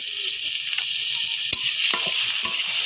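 Onion and garlic crackle and hiss in hot oil, a dense continuous sizzle with a few soft scraping stirs.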